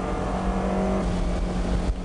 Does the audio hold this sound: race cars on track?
yes